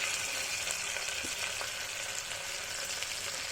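Ginger garlic paste fries in a pan with a steady, even hiss of sizzling oil, close and continuous, with faint clicks of stirring.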